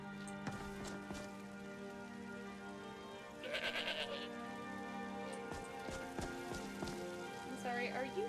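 Goat bleating in the video game Skyrim, a short wavering bleat in the middle over a steady bed of rain and game ambience, with a fainter bleat near the end.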